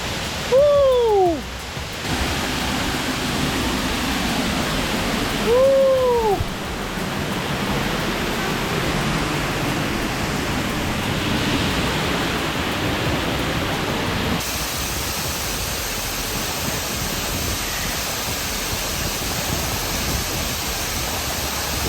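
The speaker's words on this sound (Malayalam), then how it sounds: "നമ്മൾ വാട്ടർഫോളിനെ ഒന്നുകൂടെ അടുത്തൊന്നും കാണാനുള്ള പോക്കാട്ടോ" Steady broadband rushing water from Kapuka Falls in Davao Oriental, Philippines, roars throughout, close and constant, with a couple of brief bird-like chirps early on.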